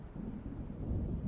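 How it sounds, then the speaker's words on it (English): Storm wind gusts in Alan Wake, a low, rumbling roar with a thunder-like swell toward the end, steady and fairly quiet, with no voices. "It seems there's a storm coming."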